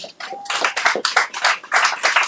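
A church congregation claps during a service, a run of sharp, close handclaps in an irregular rhythm over about two seconds, with no talking.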